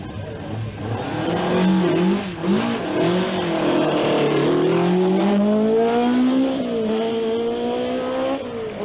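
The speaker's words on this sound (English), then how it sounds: "Although Ari's MCD Escort is brand new, the rear-wheel drive RS 1800 is almost obsolete in tarmac rally." A rear-wheel-drive Ford Escort RS 1800 rally car on tarmac revs hard and close, its engine note rising and falling through gear changes in a continuous loud drone.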